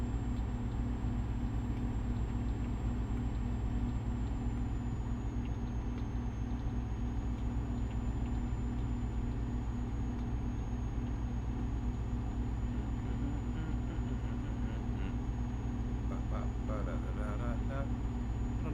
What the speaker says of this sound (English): it does kind of sound a little loud in the engine